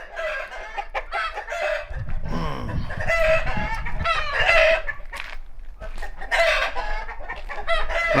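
A flock of chickens clucks and squawks in alarm while a rooster crows repeatedly, the calls overlapping loud and close in a busy farmyard clamor.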